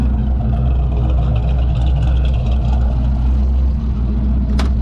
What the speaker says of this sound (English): Restart the engine. Alright, vacuum on. It's idling at 36 psi